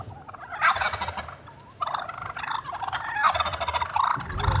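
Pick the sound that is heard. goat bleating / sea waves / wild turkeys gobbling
wild turkeys gobbling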